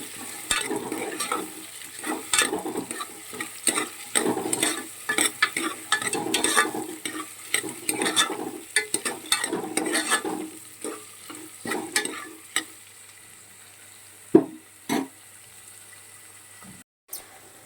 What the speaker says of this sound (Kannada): ಈರುಳ್ಳಿ ಗೋಲ್ಡನ್ ಕಲರ್ ಬರೋ ತನಕ ನೀಟಾಗಿ ಫ್ರೈ ಮಾಡ್ಕೊಳ್ಳಿ